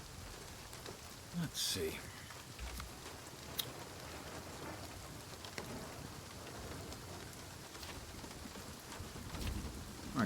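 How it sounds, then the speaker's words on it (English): Rain falls steadily in the survival crafting game Nightingale, a quiet, even hiss throughout, with someone speaking briefly near the start. "Oh, it's raining outside."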